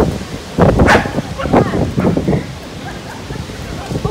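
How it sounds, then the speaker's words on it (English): Small dogs bark in short playful bursts, several sharp yaps close by over wind noise, with people talking around them. "Look at these little dogs."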